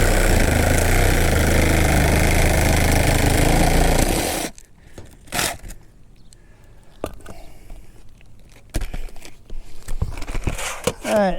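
A worn saw blade cuts through a roof slat with a loud, rough, grinding buzz for about four seconds, then stops abruptly. Scattered knocks and handling noises follow in the quiet.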